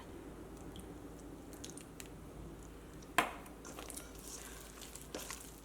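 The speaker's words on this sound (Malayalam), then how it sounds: "ഈ കൈ കൊണ്ട് ഇതേപോലെ ഇങ്ങനെ നന്നായിട്ട് ഇങ്ങനെ അടിച്ചടിച്ച് പതിപ്പിച്ചിട്ടെടുക്കുക." Vada batter being beaten by hand in a bowl gives soft, wet squishing and slapping sounds, faint and fairly steady, with one sharper slap partway through.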